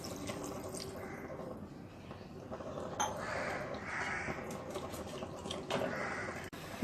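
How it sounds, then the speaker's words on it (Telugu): Water added to a pan of simmering drumstick dal, a soft continuous pouring and trickling sound with a few brighter splashes partway through, close by and with no speech. "వాటర్ వేసుకొని"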